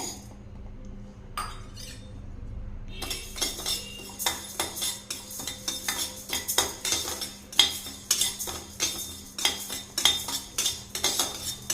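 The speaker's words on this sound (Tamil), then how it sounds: "இந்த அரிசியும் நல்லா சூடாக வரைக்கும் நல்லா வறுத்த போதுங்க" Mappillai samba rice is dry roasted in a pan, with a metal spoon scraping and clinking against the pan in a busy, uneven rhythm of close stirring taps after a brief quiet start.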